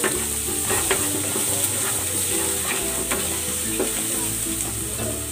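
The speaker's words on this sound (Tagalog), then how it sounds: "Magigisa na ako ng bawang." Garlic sautéing in a hot pan for pork in tomato sauce, a steady, loud sizzle and crackle with occasional stirring scrapes throughout, no talking.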